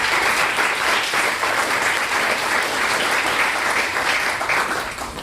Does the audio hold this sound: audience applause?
yes